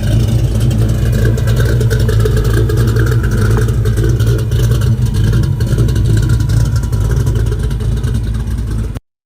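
A Ford 351 small-block V8 revs loud and close through its muffler, a deep, continuous rumbling drone that holds steady before cutting off abruptly at the end; no talking.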